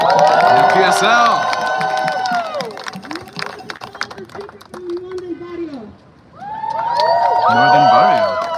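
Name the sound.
crowd applause and cheering at a rally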